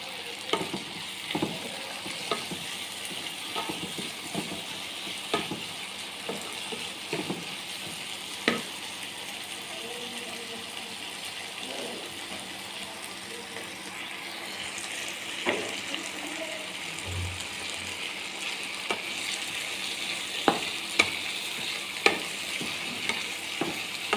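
Meat frying in a pan with chopped tomato, a soft steady sizzle punctuated by regular scraping stirs and light knocks, fairly quiet and close with no speech.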